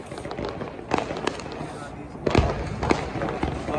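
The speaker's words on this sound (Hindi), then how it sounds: "तो अब ये एक शॉट चलाने लगे हैं।" Diwali fireworks shots set off outdoors, heard as a few sharp bursts and pops amid a constant crackling din of surrounding firecrackers, with voices in the background.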